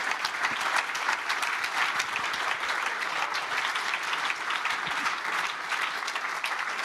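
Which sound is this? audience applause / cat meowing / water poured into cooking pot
audience applause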